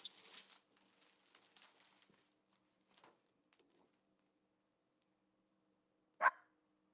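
A puppy shut outside gives a single muffled bark in the distance near the end, after faint scattered household noise and rustling indoors.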